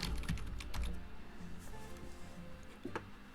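Clicky keystrokes tap out a short burst on a computer keyboard while entering a part name in KiCad schematic software, close and fairly quiet, with irregular spacing and no talking.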